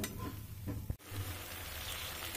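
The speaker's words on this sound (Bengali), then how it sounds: "এরকমভাবে সবসময় নাড়তে থাকতে হবে, তা না হলে তলায় লেগে যাবে" Spice paste with cashews and melon seeds being stirred in a pan, a steady close sizzle and scraping that briefly cuts out near the one-second mark before resuming.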